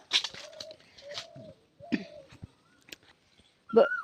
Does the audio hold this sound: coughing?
no